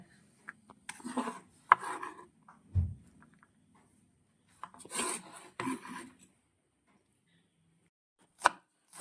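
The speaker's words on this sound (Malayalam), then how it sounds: "നമ്മളൊരു സവോള ഒന്ന് ചോപ്പ് ചെയ്തെടുക്കുന്നുണ്ട്." An onion being chopped with a knife on a board for a Kerala-style thoran, crisp close-up cuts in short irregular bursts separated by quiet pauses.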